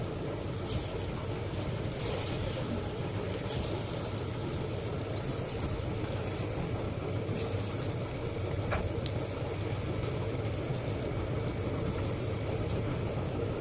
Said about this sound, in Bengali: কড়ার তেল গরম হয়ে গেছে,